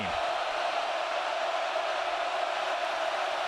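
A college football stadium crowd at a Colorado Buffaloes vs. Oregon Ducks game roars in a steady, loud, wide wash of noise that holds at an even level throughout.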